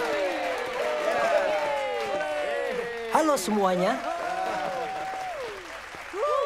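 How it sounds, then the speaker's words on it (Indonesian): A cartoon studio audience applauds and cheers, steady crowd clapping running beneath animated character voices that talk and exclaim over it throughout. "Beri tepuk tangan yang meriah."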